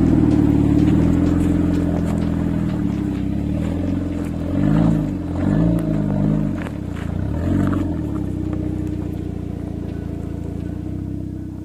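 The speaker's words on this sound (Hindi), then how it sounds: "अब दिखाते हैं इन पत्थरों से कैसे क्रॉस करती है अपनी गड्डी" An SUV's engine labours and revs while the vehicle crawls over rocks on an Aravali hill track, a steady loud drone with surging pulses and occasional clatter from the stones.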